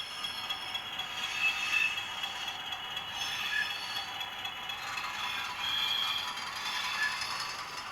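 A Bachmann Class 20 model locomotive (32-030DS) runs and accelerates, its small mechanism giving a steady, fine whirring buzz with a faint rattling texture that swells slightly, close and alone without talk.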